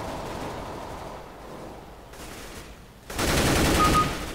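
Gunfire in the video game CS:GO, rapid automatic bursts heard at a distance at first, then a loud close-range volley in the final second.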